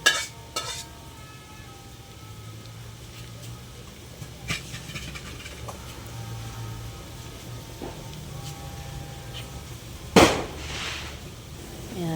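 Garlic frying in butter for butter shrimp, a soft steady sizzle with occasional stirring clinks and one sharp pan knock, fairly quiet and without talk.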